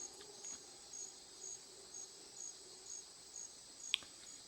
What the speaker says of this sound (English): Crickets is one.